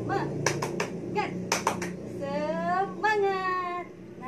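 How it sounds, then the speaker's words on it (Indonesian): A group claps a quick rhythmic cheer pattern of sharp bursts, mixed with a child's and adults' voices chanting, bright and close in a classroom-style setting. "Tepuk semangat."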